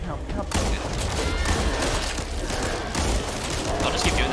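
Rapid, dense gunfire from the co-op zombie shooter Back 4 Blood, loud and sustained across the whole stretch as overlapping volleys with no real pauses.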